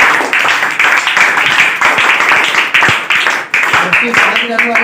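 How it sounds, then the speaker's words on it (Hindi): A crowd of students claps together in a sustained burst of rapid, loud applause during a classroom doubt session, with a voice faintly present beneath it. "एक बार अपने लिए ताली मारिए।"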